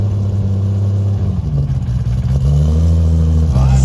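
A Toyota Supra engine revs steadily and loudly up close, its deep tone swelling and dropping throughout with no voices over it.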